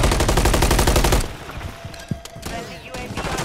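Rapid automatic gunfire rattles loud and close in a Call of Duty MW3 multiplayer match, then drops to scattered shots and clatter as voice chat continues.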